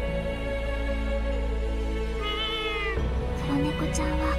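Black cat in the video game Little Witch Nobeta giving a single clear, drawn-out meow over steady background music, followed by a few short game sound effects.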